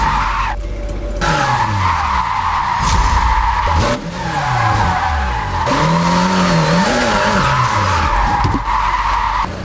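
A car in Japanese Drift Master drifts with loud, wavering tire squeal over an engine that revs and sweeps up and down, close and continuous, with no talk.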